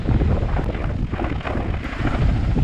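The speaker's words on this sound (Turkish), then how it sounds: "Şu anda helikopter su dolumunu yaptı." Firefighting helicopter refilling with water during a windy wildfire near a factory in Dalaman, heard as a steady, loud rotor roar blended with strong wind buffeting the microphone throughout.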